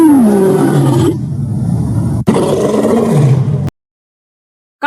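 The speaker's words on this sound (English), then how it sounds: "Lion." A lion roars loudly and close, a deep, rumbling, sustained roar with groaning swells lasting several seconds before cutting to silence.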